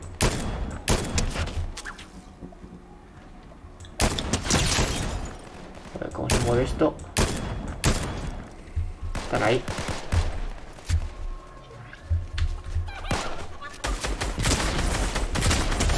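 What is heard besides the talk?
gunfire in a video game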